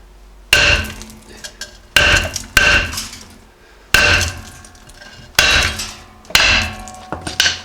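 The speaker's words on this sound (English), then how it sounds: "then we're going to try hammering on it and see if we can break it free" Loud, sharp hammer blows strike a seized brake drum on a Jeep Cherokee XJ about six times, roughly a second apart, each ringing out briefly before the next hit.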